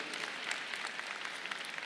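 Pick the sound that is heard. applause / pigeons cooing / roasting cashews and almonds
applause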